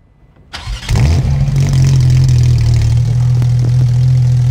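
A Porsche 911 GT3 RS with a replaced exhaust cranks and fires up after a brief quiet moment, then settles into a loud, deep, steady idle close by.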